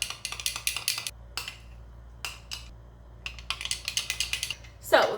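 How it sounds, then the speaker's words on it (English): Maple Dijon mustard glaze being stirred in a small bowl, a spoon clinking and scraping against the sides in quick rhythmic bursts with short pauses, close and clear, with no talking. "And we're just gonna mix that up."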